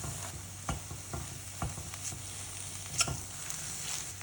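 Gavar and potato bhaji with freshly grated coconut is stirred in a pan, giving a steady soft sizzle. Several distinct spoon scrapes and taps land through it, the loudest near the end.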